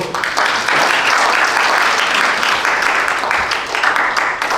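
Sustained applause from a church congregation welcoming a deaconess to the front, steady dense clapping at full loudness with faint voices underneath.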